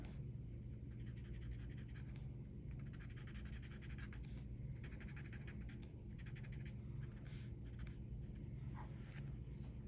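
Graphite pencil shading across paper while adding shadows to a Zentangle ink drawing: a steady, close, soft scratchy rasp in repeated short strokes over a constant low background hum, with no talking.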